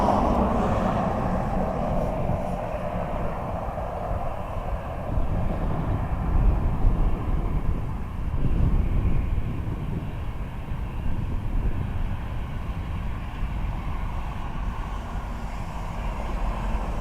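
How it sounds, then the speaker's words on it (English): Airbus A320 airliner at Dublin Airport, a loud, steady jet engine roar close by that holds for the whole stretch, swelling slightly midway, with no talk over it. "There's an A320 behind me"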